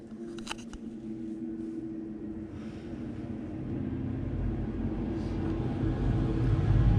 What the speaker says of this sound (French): Désolé pour le bruit, il y a un tracteur qui passe.